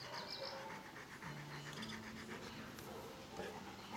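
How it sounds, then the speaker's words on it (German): A four-year-old, 60-kilo male Dogo Canario pants in steady, rhythmic breaths, close up against a constant background hiss. "haben wir dann Neuzugang Pedro, 4-jährigen Dogo Canario Rüden"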